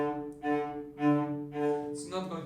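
A cello is bowed at the tip with too little pressure, giving an airy, floaty tone. Four separate sustained strokes follow one another quietly, each with a breathy edge.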